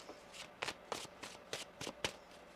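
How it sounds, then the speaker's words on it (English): Tarot cards are riffled and tapped in a quick series of about seven crisp, papery bursts, close and quiet, with no talking. "One more shuffle here."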